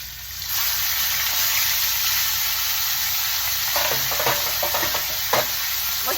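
A beef roast sears in a pot with a loud, continuous close sizzle and a high hiss, joined partway through by a few knocks and scraping shifts of the meat, without any talking.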